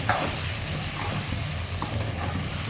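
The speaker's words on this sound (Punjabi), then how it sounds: "ਇਸ ਤਰ੍ਹਾਂ ਕਰਕੇ ਪਿਆਜ਼ਾਂ ਨੂੰ ਆਪਾਂ ਚੰਗੀ ਤਰ੍ਹਾਂ ਭੁੰਨ ਲੈਣਾ" Onions with a spoonful of salt fry in a pan, giving a continuous close sizzle with faint stirring scrapes and no talking.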